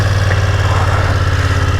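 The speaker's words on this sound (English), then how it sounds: "Nice throaty exhaust." A 2020 BMW F900XR motorcycle idles with a steady, deep, throaty exhaust burble, loud and close, with an even low pulse and no talking.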